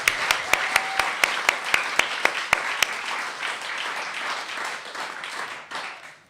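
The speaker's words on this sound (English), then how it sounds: "Can you please give a great big cheer and a shout for Angie and Bruce?" Audience applause at a live-streamed music show, with sharp distinct claps rising at the start, then a dense wash of clapping and cheering that gradually fades.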